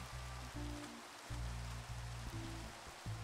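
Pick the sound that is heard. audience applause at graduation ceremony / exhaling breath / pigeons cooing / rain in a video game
rain in a video game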